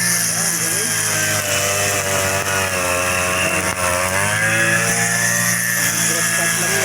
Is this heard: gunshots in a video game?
no